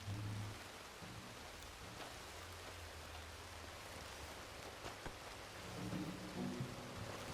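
Steady rain hisses throughout with a low rumble beneath, a constant wash of falling water and no voices, in the video game Red Dead Redemption 2.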